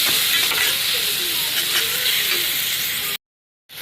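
Ginger-garlic paste and masala for a chicken curry fry in a pan with a little water, a loud, steady close sizzle and hiss that cuts off abruptly before the end.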